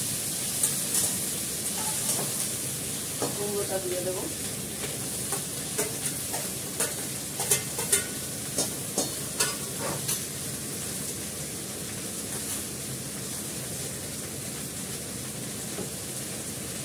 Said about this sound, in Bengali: এগুলো তো সবই ভাজা হবে